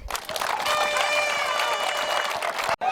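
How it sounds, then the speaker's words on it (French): An audience applauding members of an NGO at a public gathering, a short burst of clapping mixed with crowd noise and a sustained tonal backdrop, ending in an abrupt cut. "si nous pouvons les applaudir aussi"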